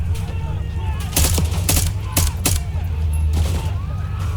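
Gunfire in a first-person shooter video game: several loud single shots spaced irregularly over a steady low engine-like rumble, with brief bursts crackling through the mix.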